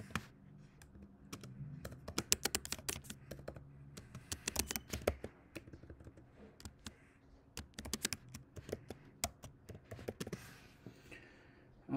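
Fingers type on a computer keyboard in quick irregular bursts of crisp key clicks, close and fairly quiet, with short pauses between runs.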